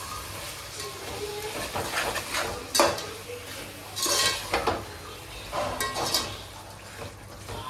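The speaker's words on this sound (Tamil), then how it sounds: "எல்லாத்தையும் ஒன்றா சேர்த்து நல்லா எப்படி வதக்கிட்டே இருக்கணும்" Chicken biryani masala being sautéed and stirred in a pan, with repeated scraping clatters of a spoon against metal and a faint sizzle underneath, close and fairly loud, no talking.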